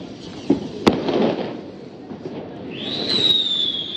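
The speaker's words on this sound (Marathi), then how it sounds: "बघू आता हिचा रशी बॉम्ब लागतोय की नाही" A rassi bomb firecracker goes off at night during Diwali celebrations, giving sharp bangs near 0.5 and 0.9 seconds, followed by a rising whistling firework tone late in the clip.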